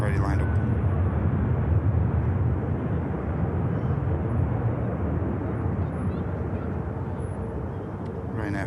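Ryanair jet taking off from runway 05 left at Manchester Airport, a steady, fairly distant engine roar that holds level and thins slightly toward the end, with a voice talking over it.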